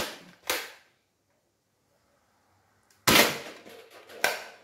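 A modified Nerf Rival Knockout blaster fires Worker gen 3 rounds, giving sharp snapping shots: one, then a pause, then two more close together, each followed by a brief rattle.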